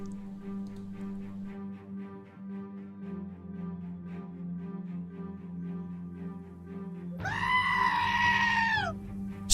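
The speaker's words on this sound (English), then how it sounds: "Goat sound." A goat bleat sound effect plays on a game live stream: one loud, wavering bleat near the end over a steady low background hum.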